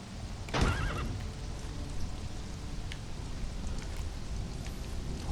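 A horse neighs once in the video game Conan Exiles, a loud whinny near the start, followed by a low steady ambient rumble with faint patter like rain.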